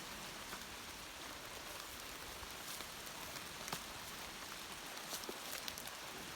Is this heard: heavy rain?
yes